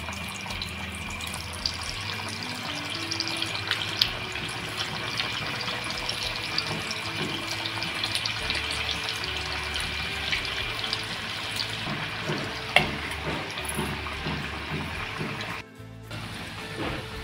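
Kothimbir vadi, coriander fritters, shallow-fry in hot oil with a steady, dense sizzle and crackle that continues throughout, with a brief dropout near the end.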